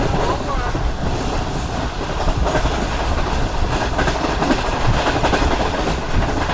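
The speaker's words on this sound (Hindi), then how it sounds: "रन बठानी से गुजर रही है ट्रेन हमारी इस वक्त" The Pak Business Express, travelling from Karachi to Lahore, rolls along the rails in a loud, steady rumble with rhythmic clickety-clack from the wheels, heard from inside the carriage.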